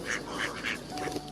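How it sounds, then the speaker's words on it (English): Ducks quacking in a countryside pond setting, several rapid nasal quacks in a row, close and fairly loud, with no other sounds. "You could also hear snakes hissing and ducks quacking."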